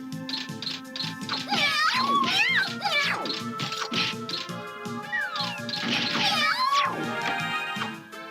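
Kittens meowing in the video game Tail Concerto, several high, bending cries in quick bursts over a steady game music loop, fairly loud and close, without talk.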